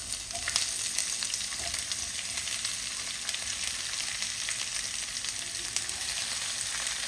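Two large sliced onions with fennel seeds fry in hot oil in a pan, a steady, close, loud sizzle that runs unbroken throughout, with no voices.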